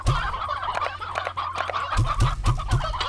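Chickens in the Slime Rancher video game cluck loudly and close, in a busy layered chorus, with a run of four evenly spaced clucks toward the end.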